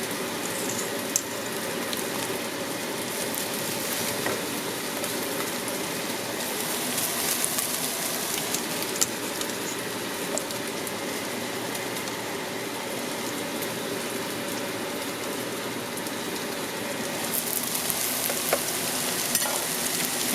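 Gnocchi fry in a hot pan, giving a steady close sizzle that runs evenly throughout with small crackles and pops and no talking.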